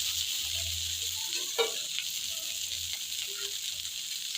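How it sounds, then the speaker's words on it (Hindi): A stuffed paratha fries in oil on a pan, giving a steady, soft sizzle throughout with faint scraping and handling noises near the middle. "दोनों तरफ से अच्छी तरह से सेक लेंगे हम।"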